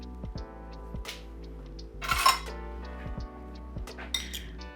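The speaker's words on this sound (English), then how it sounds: "We're just going to mix this all together and let the beef marinate." Beef being mixed with a tablespoon each of sauce and Dijon mustard for a stroganoff marinade, heard as a run of light clinks and taps of a utensil against a glass bowl, close and fairly quiet, with no talking.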